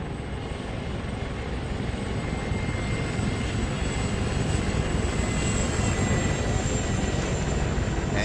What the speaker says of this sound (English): the aircraft's now flying the track